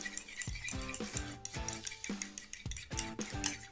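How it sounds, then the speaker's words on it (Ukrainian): A fork clinks rapidly against a bowl in quick repeated strokes, beating egg with salt, close and clear. "яйце перемішуємо дуже-дуже добре до однорідної маси"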